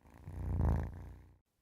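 One low, rumbling purr from menacing creatures in a horror tale, swelling in loudness and then fading out, close and deep.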